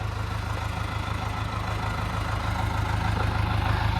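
A Caterpillar 3200 series diesel engine idles steadily with a low, even rumble and throbbing pulse, close by and unbroken throughout.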